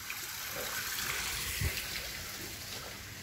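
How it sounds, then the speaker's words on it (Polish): Water runs from a tap in a steady, soft hiss, a gentle continuous trickle heard fairly quietly with a faint thump near the middle. "Fajnie też, woda leci."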